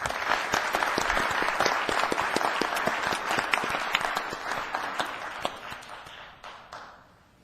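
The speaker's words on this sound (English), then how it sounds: "Let's give him a round of applause." A city council meeting audience gives a round of applause, a dense steady clatter of many hands that stays strong for most of the stretch and then thins and fades away near the end.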